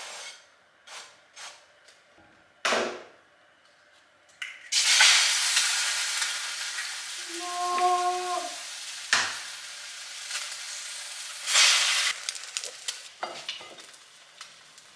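Food sizzles and is stirred in a non-Teflon frying pan, with bursts of loud frying hiss between sharp scraping and tapping of a utensil, and a brief tonal beep partway through.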